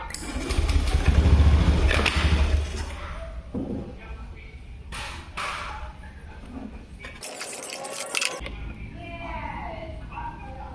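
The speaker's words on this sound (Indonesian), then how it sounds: "langsung aja kita kontak on. Kita lakukan starter." A fuel-injected motorcycle with a misfiring, sputtering fault and a failing O2 sensor is started on the starter. The engine rumbles loudly at first and then settles into a quieter idle, with voices talking over it.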